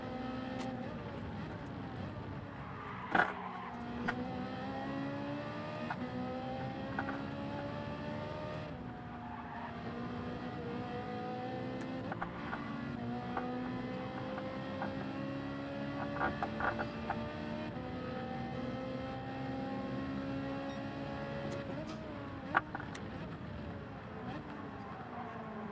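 Racing car engines in Gran Turismo 7, including a Ferrari, heard as steady whining engine tones that rise and fall through gear changes. Several cars sit close together at moderate volume, with occasional short sharp clicks.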